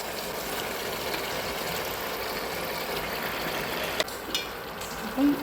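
Half a kilo of cleaned chicken goes into a pan of frying onions for a maize-flour puttu chicken curry, giving a steady broadband sizzle with a few scraping stirs and clatters near the end.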